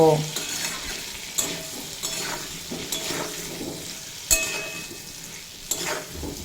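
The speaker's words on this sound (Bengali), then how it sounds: "লবণ আর পরিমাণ মতো হলুদের গুঁড়ো দিয়ে খুব ভালোভাবে ভেজে নেব" Potato and pumpkin pieces fry with salt and turmeric in a pan. A steady close sizzle is broken by repeated spatula scrapes and knocks every second or so.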